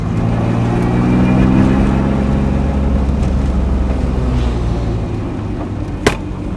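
A BMW E36 engine idles steadily while warming up, a continuous low rumble with layered harmonics and a sharp click near the end.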